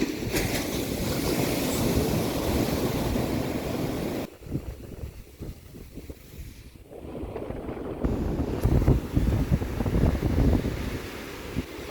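Ocean waves wash onto a beach at Boa Vista, Cape Verde, as a steady roaring surf mixed with gusting wind noise on the microphone, briefly dipping and then swelling louder again.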